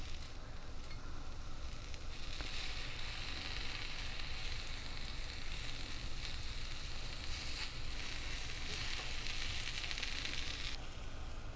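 Shrimp skewers sizzle on a hot grill, a steady, dense, close-up crackling hiss that carries on without a break.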